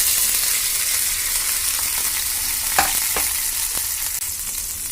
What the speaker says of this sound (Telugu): ఇప్పుడు ఇందులో మనం హాఫ్ అన్ అవర్ మ్యాగ్నేట్ చేసుకున్నాం కదా చికెన్ అది వేసేసుకుందాం